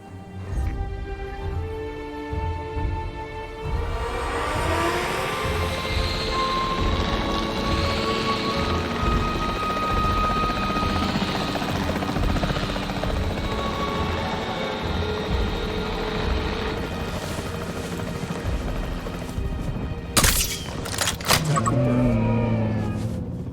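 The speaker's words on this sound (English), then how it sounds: "The priority needs to be tranquilizing it with the capture team chopper." A capture team helicopter in the video game Jurassic World Evolution 3 drones steadily with whirring rotor noise for a long stretch amid rain-like ambience, followed by a few sharp bangs and a tonal burst near the end.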